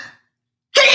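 A stifled, aborted sneeze, a sharp loud burst of breath right at the end after a short hush, close to the mic and alone, during a Mod Podge teacup crafting session.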